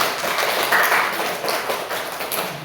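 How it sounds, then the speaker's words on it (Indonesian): A group in a school counseling session claps hands together, a continuous soft patter of many hands that holds steady and slowly fades. "boleh tepuk tangan untuk saya"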